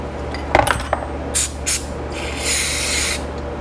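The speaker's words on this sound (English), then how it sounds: "We'll hit it with a little carb cleaner." After a few metallic clinks, carb cleaner hisses onto a Honda CB125 cafe racer's carburetor up close in two short spray bursts and then one longer spray.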